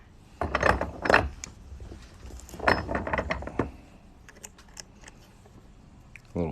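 Coin ring being domed and cleaned up, with a series of close metallic clicks and ratcheting mechanical clatter in irregular bursts, quieter near the end.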